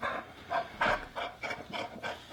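A dog pants rapidly and faintly at close range, a steady rhythm of soft breathy puffs with no clear barks.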